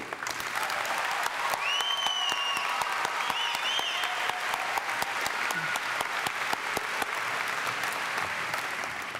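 Sustained audience applause at a 2015 Lake Highlands high school graduation ceremony honoring top-ten students, a broad, even wash of clapping with a few whistles rising above it, heard from a distance in a large hall.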